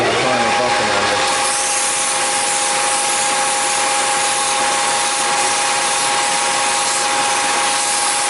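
A steel drawbar is sanded by hand with 180 grit silicon carbide paper, a steady, loud, continuous abrasive rubbing up close that runs unbroken the whole time, with no voices.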